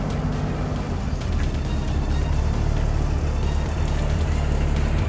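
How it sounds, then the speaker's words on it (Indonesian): The six-cylinder engine of a 1979 Toyota Land Cruiser FJ40 Hard Top idles close by, a steady, loud, low rumble that holds without change. "Dan ini bukan bunyi mesin sembarangan, ini mesin 6 silinder."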